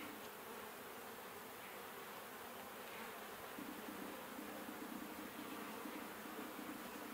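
Honey bees in a hive hum in a steady, dense drone that stays even and continuous from start to finish.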